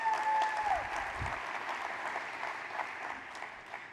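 An audience at a city's State of the City address applauds the mayor, a steady wash of clapping that gradually thins and fades.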